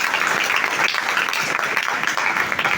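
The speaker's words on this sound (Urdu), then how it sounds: "اپنے باپ کے لیے بھرپور تالیاں بجائیں" A church congregation applauds at a Good Friday service, dense sustained clapping from many hands, loud and continuous throughout.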